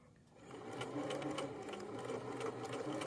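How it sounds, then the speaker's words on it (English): A sewing machine runs steadily while stitching pocket facings on a hoodie, a continuous close whirring hum with a fast repetitive needle rhythm, starting softly and then holding an even pace. "And I'll just keep sewing, lining up with the 7/8 over here on my stitch plate."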